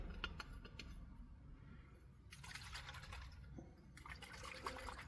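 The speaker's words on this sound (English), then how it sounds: "I'm just going to top this up with water" Water is poured into a bottle to top up a homemade tick repellent. The stream is steady and close for about five seconds and swells into louder gushing bursts partway through.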